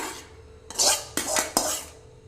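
A spoon scrapes sautéed ridge gourd out of a pan into a bowl, three distinct metallic scraping strokes, close and fairly quiet, with no talking.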